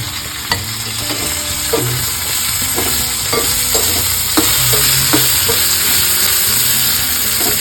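Spice tempering (vaghar) sizzles steadily in hot oil for a drumstick curry, with repeated sharp scrapes and clinks of stirring over the constant frying hiss.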